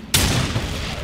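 A single sharp gunshot in the video game Darksiders 2 bursts out after a moment of quiet, followed by a ringing, noisy echo that slowly fades.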